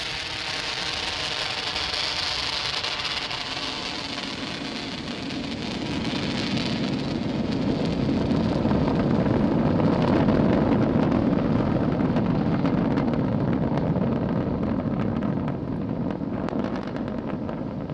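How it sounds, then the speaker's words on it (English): Nine Merlin 1D engines of a SpaceX Falcon 9 roar in a steady, broadband rumble after liftoff from Launch Complex 39A, continuous and loud throughout with a windy, distant crackling texture and no talk. "we just throttled down the 9 Merlin 1D engines"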